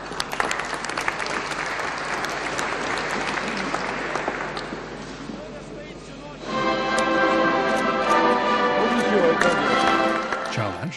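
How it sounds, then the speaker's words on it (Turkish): Guests at an award ceremony in a packed hall applaud, a steady dense clapping that dips midway and then swells louder, with a voice speaking over it. "Cavit Çağlar, salonu dolduran konukların alkışları arasında devlet nişanını Putin'in elinden aldı."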